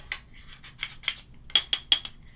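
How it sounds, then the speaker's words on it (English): A small spoon mixes melted jelly lip balm in a little container, giving a run of light, close clinks and scrapes, with sharper metallic taps toward the end. "I'm going to take the small spoon and I'm going to mix this sucker up"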